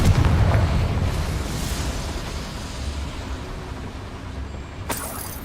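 A Confringo explosion spell bursts in Hogwarts Legacy, a loud, broad rumbling blast that decays slowly into a sustained roar, ending in a sharp crackle.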